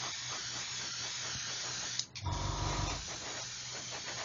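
An airbrush hisses softly while spraying stainless steel paint on a Revell 1/144 Apollo Saturn V model, with a short louder burst of air midway, and no voices.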